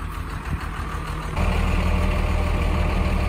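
A 5.9 P-Pump Cummins powered 700 dump truck runs steadily as it raises its bed to dump a heavy load, the low diesel rumble growing louder and denser partway through and holding on.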